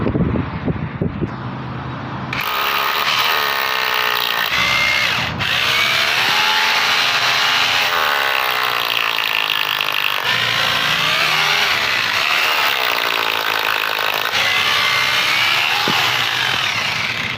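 A repaired corded electric drill whines steadily with shifting pitch as it bores, loud and close, after a brief burst of clattering at the start.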